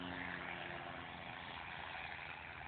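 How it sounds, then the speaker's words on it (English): An airplane comes in to land at an airport, heard as a faint, steady distant drone with propeller-like hum throughout, no voices over it. "That's the airplane right there landing."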